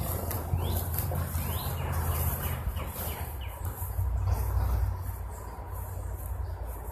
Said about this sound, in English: the birds sound lovely this morning